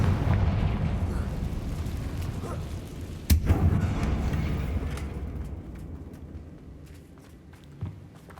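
A Confringo fire spell in Hogwarts Legacy bursts with a sharp explosive crack, rising out of a dense rumbling, crackling background and then fading into lighter scattered ticks and a small later pop.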